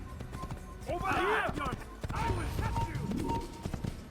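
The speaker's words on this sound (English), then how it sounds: "I'm really glad we have a horse." Horse hooves clip-clop at a steady gallop in Assassin's Creed on the road to Damascus. The beat runs continuously under game music and someone talking.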